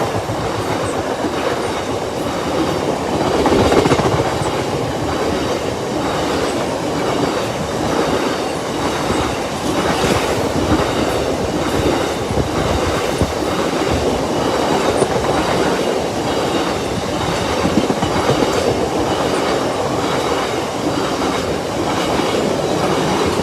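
The delayed 08:15 Kingsbury to Humber train rolls through Oak Farm level crossing, a steady loud rumble of wagons with rhythmic clickety-clack from the wheels and faint squeals, sustained and close throughout.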